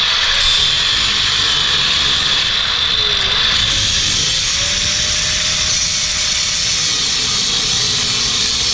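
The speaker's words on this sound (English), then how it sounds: "We're cutting about 1/4 of an inch above the nut." A cutting tool slices through a bolt above the nut on a truck's rear leaf spring mount on a 1999-2007 Ford F-250/350, producing a loud, steady, continuous hissing grind that fills the whole stretch up close.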